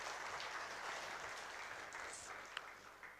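Audience at a spiritual self-talk lecture clapping together: a steady, fairly faint wash of applause that fills the room throughout without a clear end.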